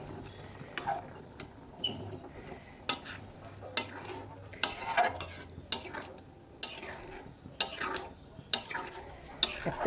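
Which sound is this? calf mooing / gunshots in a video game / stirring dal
stirring dal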